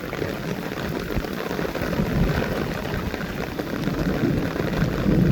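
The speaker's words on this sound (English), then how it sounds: "the rain actually hitting the back of my legs is actually kind of soothing" Rain falling on a warm day, a steady close hiss of drops pattering on surfaces, moderately loud and growing slightly toward the end, with no voices.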